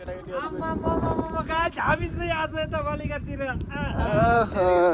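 Strong wind roars and buffets the microphone on a mountain road near the Jajarkot, Surkhet and Dailekh junction, a loud rushing gust noise running under continuous talking with children in the background.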